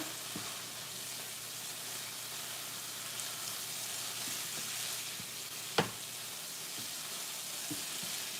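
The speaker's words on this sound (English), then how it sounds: "We're going to let it fry a little bit." Corn frying in a pan seasoned with onion powder, a continuous even sizzle like light rain with one sharp utensil clack midway, steady and fairly quiet.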